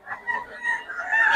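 A rooster crows once, a short, strained call that rises toward the end, fairly close with no other sounds around it.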